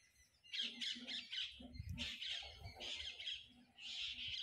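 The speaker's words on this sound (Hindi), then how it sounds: "चिड़िया है छोटी" A small bird calls in repeated bright, squawky chirps, fairly close but faint, in short bursts with brief gaps and no talk over it.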